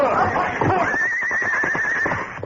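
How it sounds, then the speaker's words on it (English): Horses neighing in a radio drama, with a loud, shrill whinny rising and holding, then rapid pounding hoofbeats and squeals as the animals plunge and buck close by. "Their own horses plunged about, squealing and bucking."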